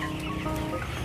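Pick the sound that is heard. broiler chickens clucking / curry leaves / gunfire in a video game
broiler chickens clucking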